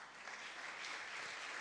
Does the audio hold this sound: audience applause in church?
yes